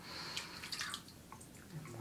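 Water trickles and drips into a shaving soap bowl, a soft close-up patter and splash of small drops over a faint background hiss.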